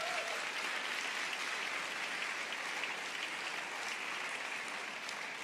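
Sustained applause from a church conference audience, a dense, steady wash of clapping hands filling the room at even loudness throughout.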